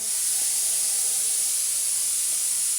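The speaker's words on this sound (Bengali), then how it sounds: "জিরা গুঁড়া এক চামচ করে সুন্দরভাবে মশলাটা ভেজে নিলাম" Spices with cumin powder, salt, turmeric and chili frying in a pan for a rohu fish, potato and cauliflower curry, giving a steady, loud broadband hiss that runs without a break.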